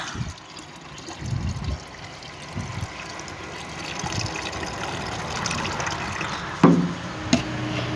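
Water pours and trickles steadily for several seconds, followed by a couple of sharp clinks near the end.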